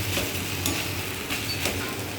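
Banana flower mixture being stirred in a pan, soft repeated scraping strokes over a quiet sizzle, fairly faint and close.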